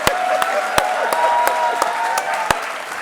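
Applause from a studio audience on a televised Indian talk show, with scattered sharp claps standing out over a softer bed of crowd clapping and faint background tones.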